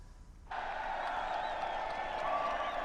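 Celebrating crowds at home break into sustained applause and cheering that starts abruptly after a brief quiet moment, a dense, continuous roar of clapping.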